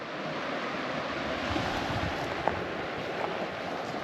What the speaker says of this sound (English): Pretty kick-ass little creek. It's really pretty, super clear.